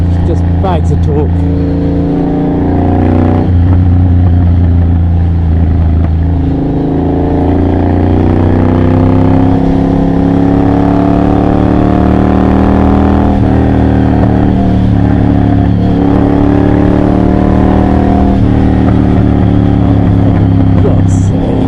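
Triumph Bobber motorcycle with a Motone X-Pipe exhaust, its low, torquey engine note rumbling steadily and rising and falling through revs up close, with someone talking over it throughout.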